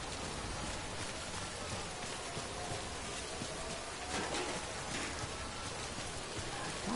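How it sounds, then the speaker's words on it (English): Steady rain falls outdoors as a continuous broadband hiss throughout, with a few faint bird coos in the background and no talking. "It's still raining."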